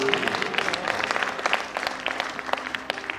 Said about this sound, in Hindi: मुझे आपसे इतनी तालियों की भी उम्मीद नहीं थी जितनी आपने बजा दी।